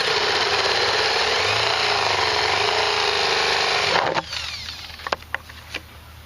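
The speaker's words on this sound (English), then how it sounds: "I went ahead and drilled the holes out in no particular pattern at all" A power drill bores holes through a plastic rain barrel, its steady grinding whine loud for about four seconds before cutting off, followed by a few sharp clicks and knocks from the plastic.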